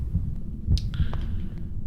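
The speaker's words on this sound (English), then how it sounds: "And that heartbeat sound sure is anxiety-inducing." Heartbeat sound effect in a video game, a slow, low thumping pulse repeating steadily, with faint clicks and a brief chime above it.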